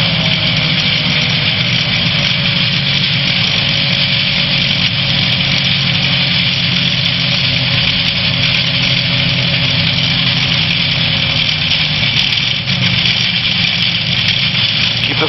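A small airplane's engine idles steadily while taxiing outside a hangar, a loud, continuous droning hum with an even rumble that holds for the whole stretch.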